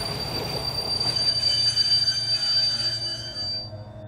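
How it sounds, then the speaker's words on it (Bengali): A train pulls into a platform with loud, sustained high-pitched wheel squeal over a low rumble of rolling rail cars, the screech fading near the end as it slows. "তবু কুয়াশার বুক চিরে ধীরে ধীরে একটা কালো ট্রেন"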